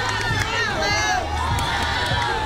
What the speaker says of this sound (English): the crowd's now really getting agitated after not getting a strike call there